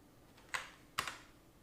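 Two sharp, close keyboard key presses, spaced about half a second apart, from ordinary keyboard movement in a game. Each is a crisp clack with a short rattle, set against a quiet background.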